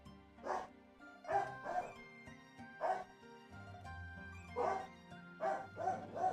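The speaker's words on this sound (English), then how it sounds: "the puppies are barking this morning" Puppies bark in House of Legacy, about six short yappy barks in uneven bursts, fairly close and clear, with no talk over them.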